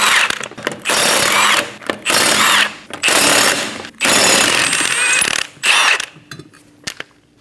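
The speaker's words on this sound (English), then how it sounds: "Using a 21mm socket, remove the 5 lug nuts." An impact wrench with a 21mm socket spinning off the lug nuts of a 2008-2015 Scion xB rear wheel, loud hammering bursts of about a second each, five or six in a row separated by short pauses, close up.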